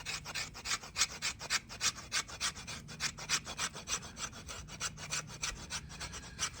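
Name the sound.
back of Silky saw scraping shavings from fatwood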